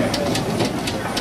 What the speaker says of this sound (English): Next show is a Burrell Sherwood's engine.